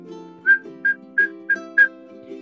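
A person whistles five short, bright chirping notes in quick succession, imitating a bird's song, over a soft tonal background.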